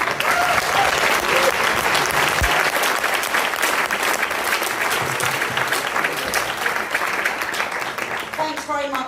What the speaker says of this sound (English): Please give her a really big round of applause.